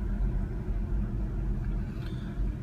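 Car rolling into a residential neighborhood early in the morning with a light sprinkle of rain, a steady low engine rumble and road noise heard from inside throughout, with no voices.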